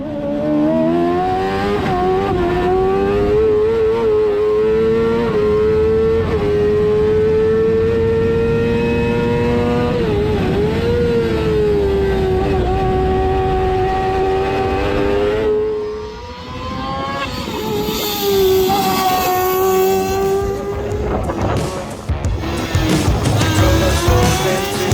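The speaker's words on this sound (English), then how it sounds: "this is a smaller engined 600cc speed car" A 600cc speed car races on Nutts Corner Circuit, its high engine note droning loud and steady as it climbs and shifts, then dips briefly before revving hard again with tyre noise.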